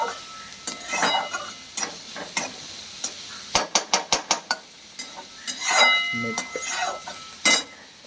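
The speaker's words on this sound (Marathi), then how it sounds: "मस्त कांदा परतून घ्या।" Onion sautéing in a pan for upma, with a soft sizzle under repeated scraping stirs and a quick run of sharp metallic taps from a spoon or spatula against the pan.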